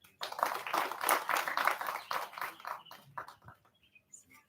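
An audience applauds at the launch of a clinical research centre in Kalangala. Scattered clapping swells early, then thins and fades into faint, sparse claps.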